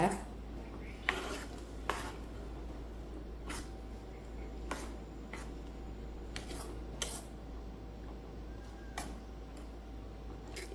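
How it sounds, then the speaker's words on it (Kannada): Garlic tempering fried and stirred in a pan for a greens curry, with repeated sharp clinks of a spoon against the pan over a faint, low background of cooking. "ಬೆಳ್ಳುಳ್ಳಿ ಒಗ್ಗರಣೆ ಕೊಡುವ."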